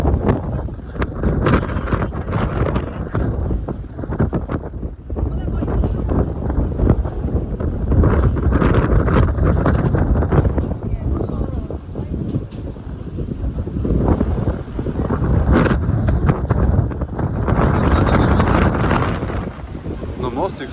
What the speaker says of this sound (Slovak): Na moste riadne fúka